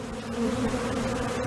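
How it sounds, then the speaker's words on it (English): Honeybees (Apis mellifera) hum in a dense, continuous drone, close and fairly loud, with a steady low buzz and slight wavering as the swarm moves, no voices. "You're listening to the sound of Apis mellifera, honeybees."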